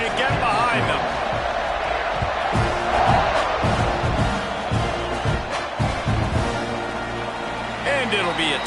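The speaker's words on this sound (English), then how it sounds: "this crowd now ready to get behind them" Stadium crowd noise from a CFB 26 / Madden 26 college football video game, a steady loud roar of cheering fans at a kickoff, with rhythmic thumps and claps running through it and no break in the din.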